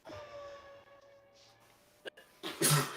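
A single sudden sneeze bursts out near the end, after a faint, steady hum and a brief soft catch of breath.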